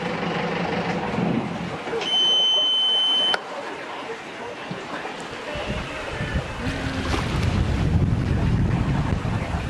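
Sailboat under way out on open water, steady wind roaring across the microphone with waves washing against the hull, a brief tone near the start and people talking over it.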